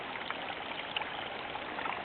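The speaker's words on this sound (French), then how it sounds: "c'est une espèce de petit ruisseau. Un petit cours d'eau qui court dans la nature." A small natural stream flows steadily outdoors, its continuous close trickling and babbling wash heard alone with small splashy accents.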